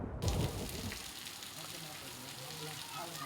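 Rain falls in a steady, even hiss in Bhavnagar, with a brief louder burst at the start.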